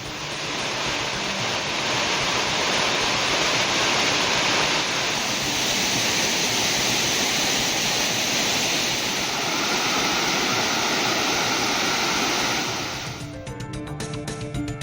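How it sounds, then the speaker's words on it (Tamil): Kumbakkarai waterfall pours steadily in the Western Ghats hills, a loud, dense, unbroken roar of rushing water heard up close, continuous for most of the clip before briefly giving way to other sound at the end. "மேற்கு தொடர்ச்சி மலைப்பகுதிகளில் மழை குறைந்து அருவியில் நீர்வரத்து சீராகியுள்ளது."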